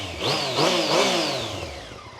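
A Yamaha MT-07 motorcycle engine starts on a newly fitted battery and revs up close, rising and falling in pitch over a couple of seconds.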